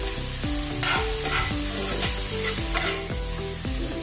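A spoon scrapes and stirs mixed vegetables such as carrot, capsicum and spinach in a hot pan, a rhythmic series of repeated strokes about every half second over a soft sizzle, close and clear with no talking.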